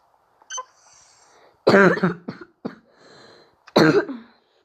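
Two harsh, close coughs ring out a couple of seconds apart, with short throaty bursts and breaths between them in a quiet room.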